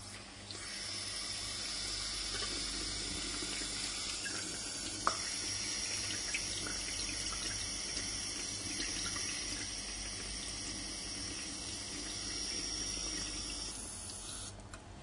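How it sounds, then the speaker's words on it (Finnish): Tap water runs steadily into an Aquapak water bag, a continuous close hiss and gurgle of filling that holds for about fifteen seconds with no voices. "Nyt voidaan täyttää Aquapacki halutulla määrällä vettä,"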